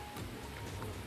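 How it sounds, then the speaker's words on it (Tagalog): Light drizzle falling outdoors on a windy UK morning gives a dense, even hiss of fine rain with faint scattered patters, steady throughout and free of voices. "Tapos naulan pa. Yung ambon."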